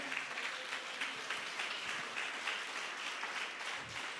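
Church congregation applauding during a Spanish-language sermon, a steady, fairly faint wash of many hands clapping continuously with no voices on top.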